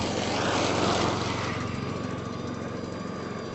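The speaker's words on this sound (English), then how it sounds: "this Verticutter's picking up nicely" A Cobra Fortis 14E verticutter running on an EGO battery works a lawn, its motor whirring loud and steady up close, easing slightly after the first second.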